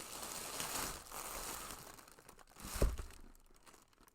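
Blue tissue paper is unwrapped from a monthly art-supply box, giving soft, close crinkling and rustling that rises and falls, with one sharper crackle partway through.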